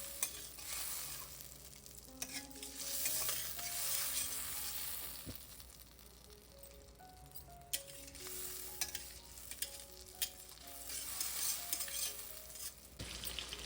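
Butter melting in a hot pan while it is swirled, a soft steady sizzle with scraping stirring strokes and sharp utensil clicks against the pan, no talking.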